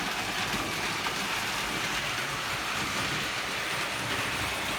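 A Lionel 520 box cab electric model train runs fast on low voltage, hauling a caboose with a moving conductor figure; a steady, dense rolling rumble and whir continues evenly throughout, close and without pauses.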